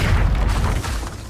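A deep, booming magical blast from a Confringo explosive spell in Hogwarts Legacy, one heavy low burst that fills the moment and then tails off slightly.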